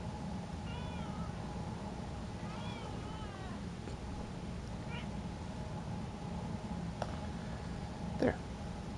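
A pet cat gives several short meows close by over a steady low hum, with a few faint clicks and taps between the calls.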